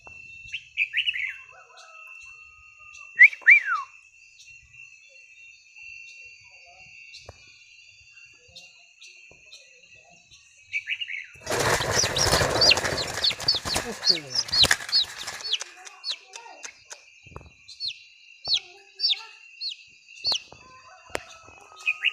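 Two jungle fowl call from a wild-type flock, giving short bright chirps and clucks that repeat through the clip against a steady insect drone. A loud burst of rustling and flapping breaks out near the middle, and the calls continue after it.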